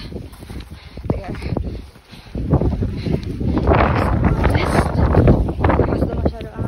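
Strong wind roars and buffets the microphone high on Mount Apo at around 2,900 meters, a loud, rushing gusty noise that swells through the second half, with faint rustling and a voice speaking underneath.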